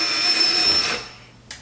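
A power drill with a 3/16 bit whines loudly for about a second, drilling out a rivet on an ACS Composite ZR1-style front splitter for a C7 Corvette. It then cuts off, followed by a faint click.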